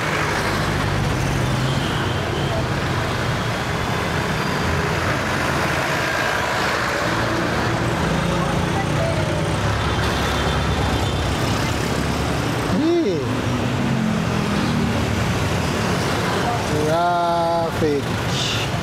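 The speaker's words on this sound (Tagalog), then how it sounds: "Traffic." Continuous street traffic in a busy Manila neighborhood near Abad Santos, a steady roar of cars, buses and trucks passing close by, with a few brief squeals or horn-like sweeps near the end and people talking under it.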